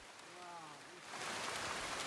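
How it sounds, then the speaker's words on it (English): Steady heavy rain in the Costa Rican forest hisses across the whole clip, growing denser and louder partway through, with faint voices briefly audible early on. "the rain started coming down harder, and it was really hard to record sound"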